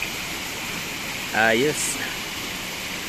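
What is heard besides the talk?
water running from a city water tap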